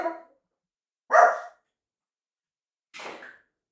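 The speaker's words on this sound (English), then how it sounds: "stop barking" A dog barks three times, one short bark right away, a louder one about a second later, then a softer one after a pause.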